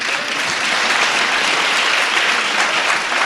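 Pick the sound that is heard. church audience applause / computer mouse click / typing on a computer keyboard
church audience applause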